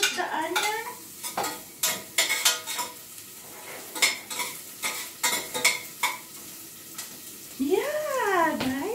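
Onion frying in a pan for ham and beans, with bursts of sizzle and repeated scraping stirs, a cat meowing twice near the start and again at the end, loud and close.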